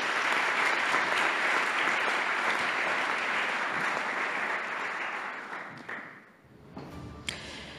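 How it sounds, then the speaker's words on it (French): Loud, dense applause from the audience at a French housing awards ceremony for four young winners, sustained for several seconds before tapering off, followed by a few scattered claps and thumps. "On les applaudit très fort tous les quatre."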